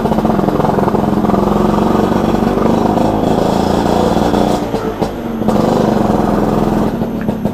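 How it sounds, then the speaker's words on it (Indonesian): A motorcycle fitted with a KY26 racing exhaust revs loud and close in a residential street, a raw, blaring roar held high with a brief dip before climbing again. "Kalau di perumahan kayak gini suara knalpotnya gila nih. Sungguh bergema."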